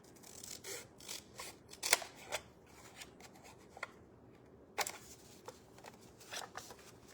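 Close scissors cut paper for a ledger journal in a handful of quick, crisp snips with short rustling gaps between them; nobody speaks.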